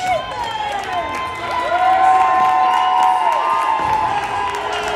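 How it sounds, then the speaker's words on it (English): An ice hockey arena crowd in a bantam youth game applauds and cheers a goalie's post-to-post save. Mixed clapping and shouts are heard at middle distance, joined by high skate and whistle-like tones, and the noise stays sustained for the whole stretch. "Nathan Brandt getting some applause for his save going post to post."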